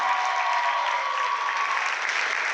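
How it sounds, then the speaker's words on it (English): An audience at a stage hypnosis show in a college venue breaks into loud, continuous applause, a dense wash of clapping from start to finish. "Give him a big round of applause"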